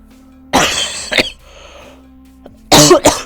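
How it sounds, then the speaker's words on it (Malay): Two bursts of harsh coughing from someone who is unwell, close and loud, with a quiet pause between the first double cough and the second pair. "Aku tak sihat kan batuk"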